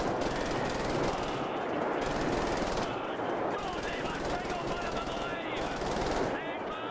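Rapid, sustained automatic gunfire from the Terminator gun in Wolfenstein: The New Order, a loud continuous rattle of shots running the whole way with brief dips, dense and close.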